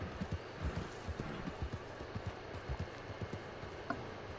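Horse hooves clip-clopping steadily at a quiet, moderate distance in a video game, an even repeating trot with no voices.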